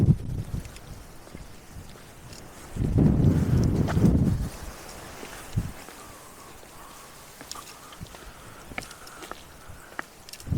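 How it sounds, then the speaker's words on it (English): Wind buffets an outdoor archaeological site of rock-cut Domus de Janas tombs in Sardinia, with gusty rumbling bursts hitting the microphone, the strongest lasting a couple of seconds, amid quieter scuffs and clicks. "There's a lot of wind."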